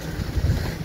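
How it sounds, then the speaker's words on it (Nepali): Cold wind gusting outdoors during a barbecue get-together with friends, a steady low rumble of buffeting air against the microphone, lasting under a second with no talk. "चिसो चिसो हावा होइन चिसो चिसो हावा"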